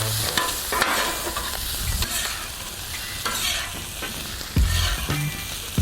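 Lowcountry hash sizzles in a pan as it is stirred and scraped, a steady close frying hiss broken by repeated utensil scrapes and a few sharper knocks, with no talk.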